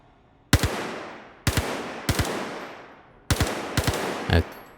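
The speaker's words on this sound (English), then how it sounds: "I just want to shoot the gun." A gun firing in Star Citizen, five sharp, loud single shots spaced about a second apart, each with a decaying tail, the last shot followed by a brief whooshing burst.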